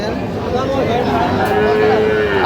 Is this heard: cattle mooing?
yes